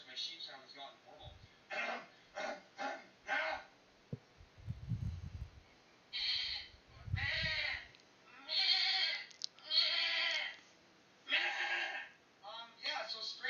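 A man imitates a sheep bleating with a string of nasal, wavering bursts, some rough and throaty, alternating with short pauses at close range.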